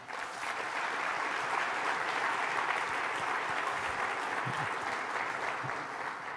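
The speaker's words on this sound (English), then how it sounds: "can we please give the staff a warm round of applause?" An audience claps steadily, a dense, even wash of applause that holds at the same level throughout.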